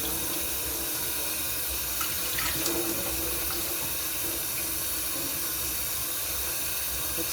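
Water from a faucet runs steadily into a kitchen sink for rinsing, a continuous close hiss with faint splashing and the clink of a dish partway through, no talking.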